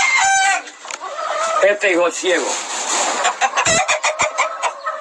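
Fighting rooster clucking and crowing up close, several bursts of fowl calls mixed with someone speaking Spanish over them.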